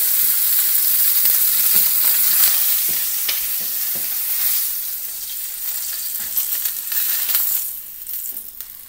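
Duck breast searing in a hot pan, a loud continuous sizzle with scattered pops and a few scraping touches, easing off toward the end, no speech.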